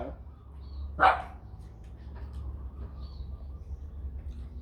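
A single sharp dog bark rings out near a house as someone passes by, set against a steady low hum and faint background sounds.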